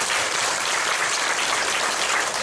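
A church congregation at a healing revival service claps together in steady, dense applause that fills the whole moment with no voices over it.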